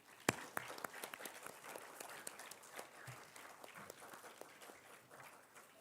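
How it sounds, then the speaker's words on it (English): Sparse, uneven clapping from a small audience greeting a guest speaker at a cancer awareness session, sharp individual claps scattered over a quiet room and fading toward the end. "Let's give him a warm round of applause."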